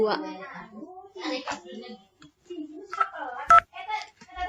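Telephone keypad dialing tones from a Cisco Packet Tracer VoIP phone setup, a single short bright beep standing out amid a child-like voice and other talk.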